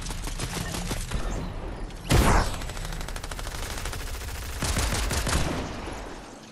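Bursts of SMG fire in Fortnite, a dense rattling volley around the middle and another sustained stretch later, loud over constant game action noise with no talking.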